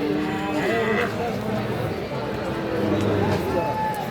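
Sahiwal bull calves at a crowded livestock market, lowing in a long sustained moo over a dense, loud background of overlapping voices and market bustle.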